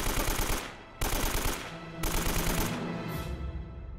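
Rapid bursts of AK rifle fire in the Uncharted shooter game, three dense automatic volleys in quick succession, loud and close with brief gaps between bursts.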